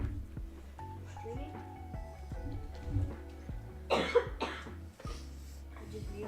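A person coughs a few times, harsh and close, over a steady background of flight-simulator cockpit hum and tones while streaming American Airlines operations out of Charlotte in a Fenix A320.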